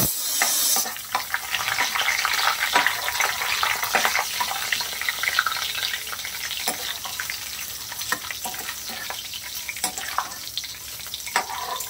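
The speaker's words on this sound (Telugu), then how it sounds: "ఇప్పుడు పోపు సామాన్లు వేసుకుంటాం" Mustard seeds, cumin, chana dal, urad dal and dried red chillies sizzle and crackle steadily in hot oil for a gongura pasta curry, a close, continuous frying hiss with scattered pops throughout.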